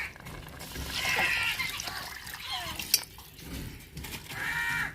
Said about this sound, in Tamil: இப்ப அளவு தண்ணி சேர்த்துக்குருவோங்க.